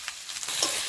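Fish heads and potatoes dropped into hot oil in a frying pan while cooking muri ghonto with kulmi greens, giving a short, steady sizzle with soft scraping stirs.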